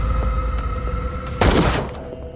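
Gunfire in the Call of Cthulhu video game, a single loud burst cutting through a low ambient hum and tonal background.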